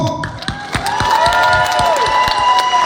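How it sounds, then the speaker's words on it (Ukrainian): An audience in a concert hall in Uzhhorod bursts into loud applause and cheering, with clapping and whoops swelling into a dense, steady roar. "Давайте оплесками привітаємо СБУ."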